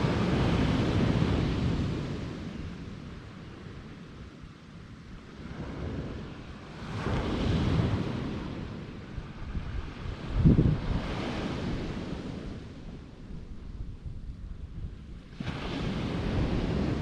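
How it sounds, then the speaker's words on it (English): Surf rolls in at Marconi Beach on Cape Cod's National Seashore, with waves swelling and breaking every few seconds under steady gusting wind buffeting the microphone. "So this is Marconi Beach, part of the Cape Cod National Seashore, one of the 6 beaches."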